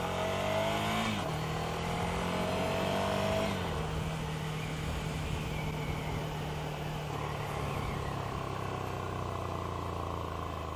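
A new Ducati Scrambler motorcycle with an aftermarket exhaust pulls through rising gear changes, its rasping exhaust climbing in pitch, then holds a steady loud drone while riding.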